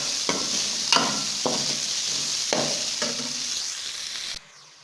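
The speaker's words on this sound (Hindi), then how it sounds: "इसको मिक्स करेंगे।" Large chunks of onion and a few garlic cloves are stirred in a cooking pot for chicken yakhni, giving several scraping, sizzling strokes at irregular intervals over a steady hiss before the sound cuts off.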